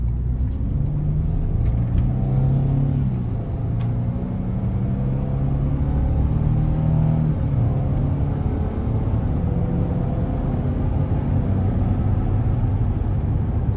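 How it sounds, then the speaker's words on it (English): A 2025 Ford Transit 150 Explorer conversion van with all-wheel drive accelerating onto a highway, heard from inside as a steady loud low engine and road rumble rising gradually over the pull. "We're gonna give it a quick pull getting on the interstate here."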